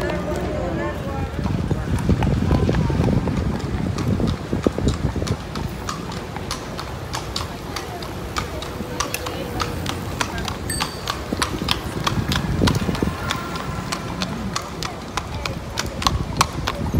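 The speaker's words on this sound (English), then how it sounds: "You can also get like a horse and carriage ride." Horse hooves clip-clop steadily as a horse and carriage pass along a path in Central Park, New York City, the rhythmic clatter close and continuous over street and crowd noise, with people talking throughout.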